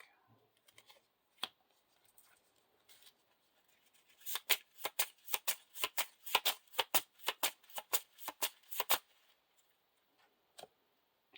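A deck of game cards for a card game is riffled and bridged in quick crisp bursts, a rapid flutter of snapping cards close by, with a few soft taps before and after.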